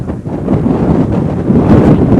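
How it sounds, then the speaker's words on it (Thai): Strong wind roars and buffets the microphone at a mountain campsite on Doi Pha Daeng in Lan Sang National Park, Tak, a loud continuous rumble with no talk. "ลมแรงข้อเสียคือถ้าไม่เอา อะไรมาบังนะ อยู่ไม่ได้เลย"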